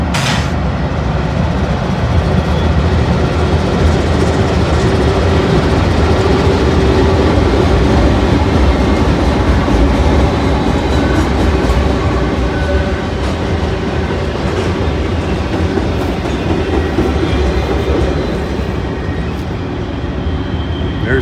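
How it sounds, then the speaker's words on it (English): A CSX freight train rolls past heading east, a loud, continuous rumble and rattle of rail cars with rhythmic clickety-clack lasting over twenty seconds, steady and close throughout. "There's a CSX coming east right now."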